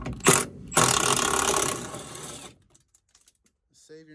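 A Milwaukee power tool with a T50 bit unscrews old sliders during pillar kit work on a 2005 truck with a 6.0 engine. It gives a short whir, then a longer loud run that stops abruptly, followed by faint clicks and a brief voice.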